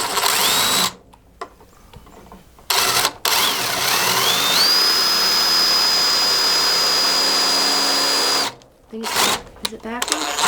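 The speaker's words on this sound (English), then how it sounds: "we're going to drill holes here and here" A power drill bores holes in scrap wood for a dowel bathroom organizer, with a short burst, then a long steady high whine of about four seconds and another brief run, close and loud between quiet gaps.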